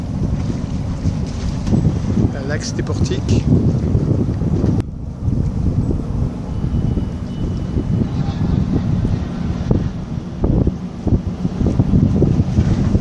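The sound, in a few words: boat noise, likely the MSC Seagrass ship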